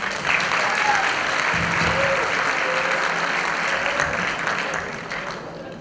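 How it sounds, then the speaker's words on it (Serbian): Sustained applause from an audience at a Serbian folk dance performance in Belgrade, a dense steady wash of many hands clapping that fades slightly toward the end. "Pozdravite ih aplauzom!"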